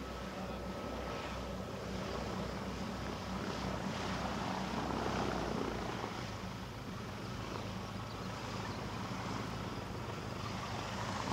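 A light aircraft lands on runway 29 at the Canterbury Aero Club in a northwesterly crosswind. Its engine gives a distant, low drone that swells and fades a little, over steady wind and rumble, with no voices.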